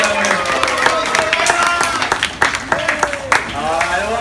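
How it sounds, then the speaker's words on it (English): Spectators at a dolphin marine park show applaud, scattered clapping from a crowd with an announcer's voice and excited voices over it. "Let's give Bella a big round of applause, ladies and gentlemen."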